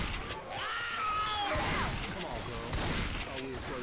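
Gunfire in Left 4 Dead 2, a clustered burst of shots with crashing impacts, loud and near, while players talk over the action.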